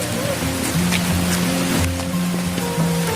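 Steady rain falls outdoors, a dense continuous hiss that stays even throughout, with faint tonal sounds running underneath and no clear voices.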